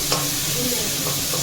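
Mustard seeds, dried chillies and curry leaves crackle in hot oil as a dense, steady sizzle, close and fairly loud, with a faint popping texture and no pauses.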